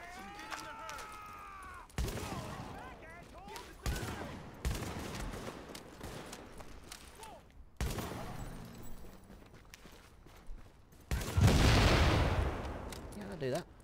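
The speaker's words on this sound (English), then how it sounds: "This shotgun's really good, I love it." Shotgun fire in Tom Clancy's The Division, several sharp, separated blasts spread across the stretch, the last one loudest, mixed with other game effects and some talking.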